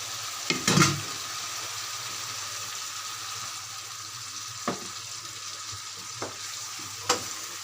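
Spiced egg korma masala with a blended mixture of milk, sugar and fried onions cooks in a pan with a soft, steady sizzle. Occasional stirring knocks and scrapes break in, loudest near the start.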